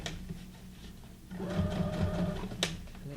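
A sewing machine stitches through a book page junk journal envelope, a close mechanical whir that starts softly and grows louder and busier halfway through the short run.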